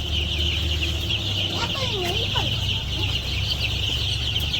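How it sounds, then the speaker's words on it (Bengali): Chickens and chicks cluck and peep in a village yard, with soft clucks and rising chick calls over a steady droning background, close by. "মুরগির বাচ্চাগুলো যে ফালবারে কি সুন্দর যে লাগে দেখতে।"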